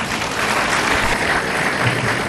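Audience applause at a college graduation day ceremony, a dense, loud, continuous wash of clapping from a large crowd with no voices over it.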